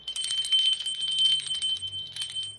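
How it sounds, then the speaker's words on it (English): A single bell rings with a clear, sustained high metallic tone that fades slowly, heard close and on its own. "Ring the bell."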